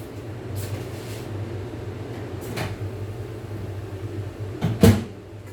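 A kitchen microwave oven door thumps open and shut, with a few soft clicks and bumps spaced through the quiet room and a sharper closing knock near the end while a vegetable paratha pizza is being prepared.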